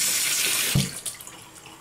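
Tap water runs steadily into a sink as a wet-shaving brush from Wet The Face is soaked, then the flow cuts off around midway and a few soft drips and handling sounds trail off, close and clear.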